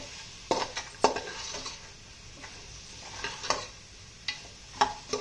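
Food fries in a pan with a little salt added for a chicken, mutton and prawn biryani, a soft steady sizzle broken by several clinks and scrapes of a spoon stirring against the pan.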